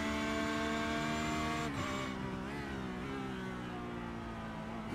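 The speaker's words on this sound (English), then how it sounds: "Let's take a lap in Mike Marshall's Porsche." A Porsche GT3 race car engine on a lap at Winton, a loud, steady in-car drone holding high revs with brief dips at gear changes.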